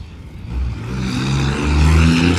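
A car revs and accelerates hard close by, its engine note climbing in strong low harmonic bands that swell louder toward the end, with no talking over it.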